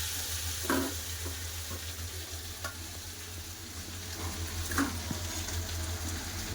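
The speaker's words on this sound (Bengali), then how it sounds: "আবার সব একসাথে ভালো করে কষে নেবো" Ground spice masala of coriander, chilli, cumin and turmeric powders fries in a pan with prawns for a Bengali snake gourd curry, a soft steady sizzle under a low hum, broken by a few light clinks of the stirring spoon.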